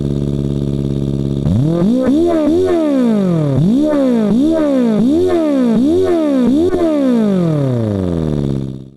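A simulated Suzuki Hayabusa engine from Engine Simulator starts and revs repeatedly, rising and falling in quick, even throttle blips with a harsh multicylinder buzz, loud and close, before cutting off abruptly at the end.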